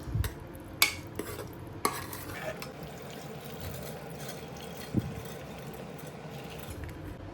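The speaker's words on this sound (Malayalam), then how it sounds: "എല്ലാം കൂടി മിക്സ് ചെയ്യാം" A spoon stirs rice and lentils together with cooked tomatoes in a pot for rasam rice. Soft scraping and wet churning run throughout, broken by a few sharp clinks against the pot's side.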